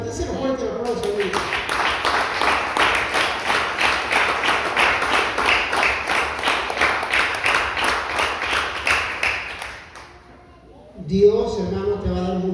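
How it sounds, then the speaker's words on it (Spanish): A church congregation breaks into rhythmic clapping that runs for about ten seconds, fairly loud and steady, before fading as a voice resumes speaking. "Se lo fuerte el aplauso"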